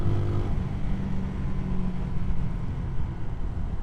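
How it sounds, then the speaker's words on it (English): A CSC SG250 cafe racer motorcycle runs at full throttle in fifth gear around 30 mph, a steady low engine drone blended with heavy rushing wind noise throughout. "So this is 5th gear, 30 miles an hour, full throttle."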